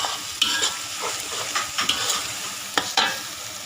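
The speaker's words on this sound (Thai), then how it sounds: "ผัดเครื่องให้หอมก่อนผักชี รากเอ้ยรากผักชี กระเทียมแล้วก็ ขิง สามอย่างรวมกัน" Coriander root, garlic and ginger stir-fried together in a pan, a steady close sizzle broken by several sharp scrapes and clinks of a utensil stirring against the metal.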